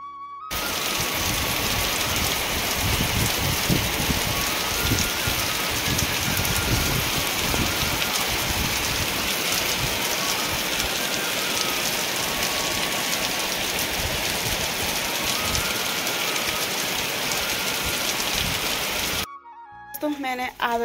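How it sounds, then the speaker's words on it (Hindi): Heavy rain pours down steadily and loudly outdoors in a hillside setting, a dense continuous hiss with drops pattering on surfaces for nearly the whole stretch before cutting off abruptly near the end. "तो तब तक इतनी तेज बारिश आ गई, ये देखो।"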